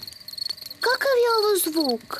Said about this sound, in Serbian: To cvrče cvrčci.